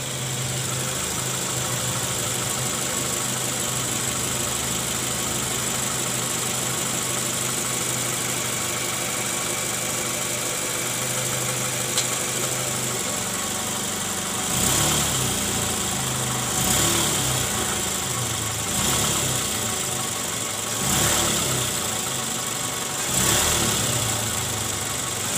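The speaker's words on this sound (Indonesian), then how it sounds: "Oke guys, suara mesinnya halus ya." Toyota Camry engine idling at around 90,000 km while its worn balancer shaft is checked, a steady low hum with faint mechanical ticking and a few louder rhythmic thumps later on, with no talking.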